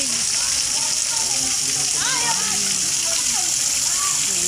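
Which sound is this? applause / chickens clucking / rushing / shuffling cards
rushing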